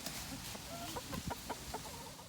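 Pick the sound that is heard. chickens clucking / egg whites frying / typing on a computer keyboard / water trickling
chickens clucking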